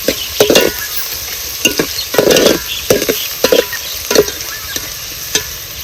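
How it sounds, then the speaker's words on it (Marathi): Chopped onion frying in hot oil for a spicy mutton curry, a steady loud sizzle broken by repeated scraping stirs of a spoon against the pan. "आता ह्याच्यामध्ये घालायचा पहिल्यांदा कांदा कांदा चांगला आपल्याला भाजून घ्यायचा आहे"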